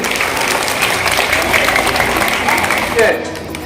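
A school crowd at a student prize-giving in Katihar, Bihar, claps dense and sustained for the winner of the 800-metre race, the applause steady and loud before tapering off near the end.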